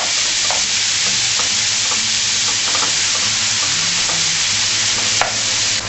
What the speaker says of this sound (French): Donc là mes lardons sont bien saisis